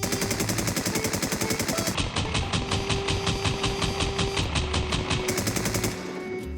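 SKAR rifle gunfire from the shooter game Infestation SEA, loud rapid automatic bursts with a steady rattling rhythm, a short break near two seconds, then more sustained firing before stopping.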